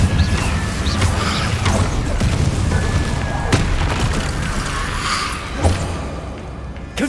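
Incendio fire spell cast in Hogwarts Legacy, a loud burst of booming, crashing blasts with sharp impacts repeating through a dense, roaring wash, no talk over it.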